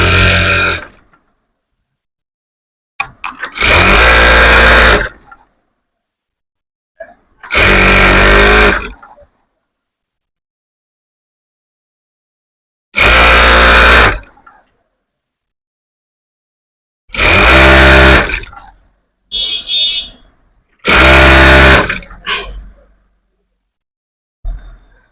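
A sewing machine stitches a salwar drawstring in loud, rattling bursts of a few seconds each, separated by stretches of silence.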